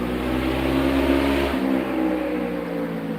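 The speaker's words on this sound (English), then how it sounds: "Sorry about the motorcycle, guys." A motorcycle engine roars close by, a steady loud drone that shifts pitch midway as the motorcycle passes and moves off.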